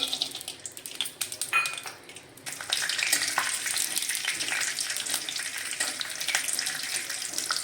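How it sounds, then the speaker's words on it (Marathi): Peanuts fry in oil in a kadhai for kanda poha, a close, steady hiss and crackle that swells after a couple of quieter seconds of stirring. "आपण आता त्याच्यामध्ये शेंगदाणे भाजून घेऊया तळून घेऊया शेंगदाणे तेलामध्ये"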